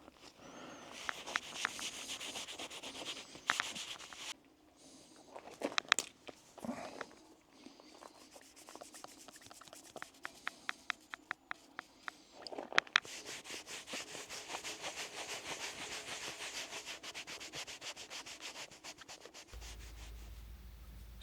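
A wood burning stove is rubbed down with kitchen towel as part of a restoration, producing repeated close, scratchy wiping strokes, some bursts of sharp rapid rubbing, brief pauses and handling knocks, with no speech.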